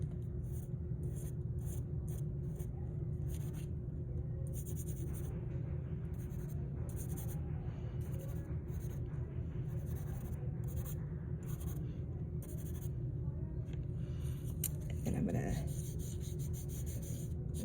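A pencil lays a light coat of gray shading on paper for background mountains in a surreal landscape, a close, steady, quiet scratching with rapid back-and-forth strokes and brief pauses.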